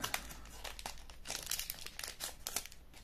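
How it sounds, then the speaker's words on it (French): A Gate Ruler trading card booster pack is torn open, giving dense crinkling and crunching foil wrapper noise in close, loud bursts throughout, with no talk. "C'est le dernier booster. On va l'ouvrir."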